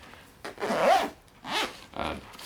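A zipper on a TomToc Aviator-T33 1.5L bag pulled in a few short strokes, close up, with brief pauses between the raspy zips.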